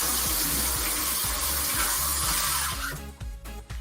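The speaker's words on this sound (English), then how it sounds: "I'm just gonna rinse off my cucumber." A kitchen tap runs in a steady loud gush as a cucumber is rinsed, the stream changing and breaking up near the end as the flow is shifted, with no talking.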